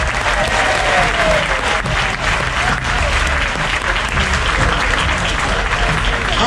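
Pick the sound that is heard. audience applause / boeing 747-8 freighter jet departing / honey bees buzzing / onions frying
audience applause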